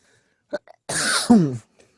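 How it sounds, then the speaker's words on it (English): A sharp, forceful cough bursts out after a couple of faint small sounds, followed by a second rougher, throaty cough, then quiet. "Cough it all out."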